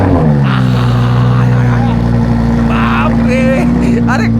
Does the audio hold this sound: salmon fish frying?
no